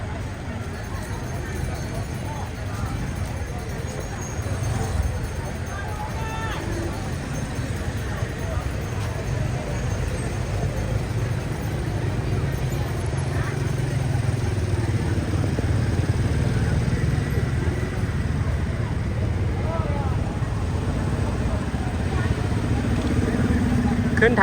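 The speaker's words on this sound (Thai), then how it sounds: "รถติดเลยแถวนี้เนาะ" Congested street traffic in Luang Prabang, Laos, with cars and motorcycles idling and creeping along, a steady low engine rumble throughout, rising slightly toward the end, with crowd chatter underneath.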